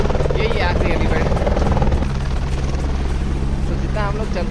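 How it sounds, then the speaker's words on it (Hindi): Helicopter landing at the Kedarnath helipad, a steady loud rotor drone with low thumping that runs throughout, while people talk over it nearby. "एक बार हेलीकॉप्टर की लैंडिंग हो रही है इधर"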